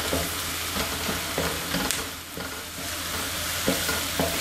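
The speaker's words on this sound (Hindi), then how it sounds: "इसमें गार्लिक को उस वक्त तक बनाएंगे जब तक कि उसकी खुशबू निकलने लग जाएगी" Garlic and onion frying in a pan over medium heat while being stirred, with a steady broadband sizzle and scraping stir strokes throughout. A low hum runs underneath, and there is no talking.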